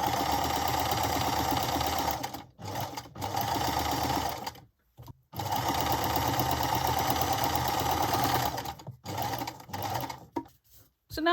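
Domestic sewing machine stitching scrap fabric onto a Christmas card, a fast steady mechanical whir running in long bursts separated by brief pauses, close and alone.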